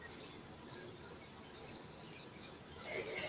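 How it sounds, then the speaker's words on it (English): Crickets kept in a room full of reptiles chirp in rapid, shrill bursts, about eight evenly spaced trills in quick succession, close and clear with no talk. "you guys are getting some extra loud cricket serenades tonight"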